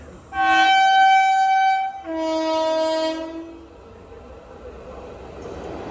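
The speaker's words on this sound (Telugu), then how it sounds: "ఓవర్టేక్ కొట్టే బండి అదిగోండి." The Anantapuri Express, Kollam to Chennai Egmore via Nagercoil, sounds two long, loud, tonal horn blasts as it passes and overtakes a halted train, followed by a fading rumble of the passing rail cars.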